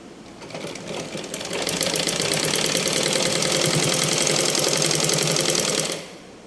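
Sewing machine stitching fabric for panties, running steadily for about five seconds with a rapid even mechanical chatter, close and fairly loud, then stopping abruptly.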